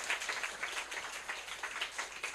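Steady, dense applause from a crowd at a political party's youth committee launch event in South Korea, continuous and moderately loud throughout with no break.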